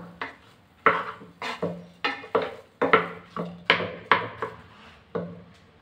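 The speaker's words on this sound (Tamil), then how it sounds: "இப்போ நல்லா நம்ம ரைஸு மிக்ஸ் பண்ணிக்கலாம்" A utensil stirs and mixes freshly cooked rice inside a pressure cooker, making about a dozen irregular, close clanks and scrapes against the metal pot over a few seconds, with no talking.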